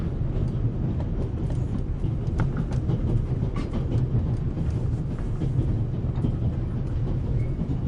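Inside a moving Orient Express carriage in a video game, a loud, steady low rumble of rolling wheels carries faint rhythmic clicks and rattles, with no voices.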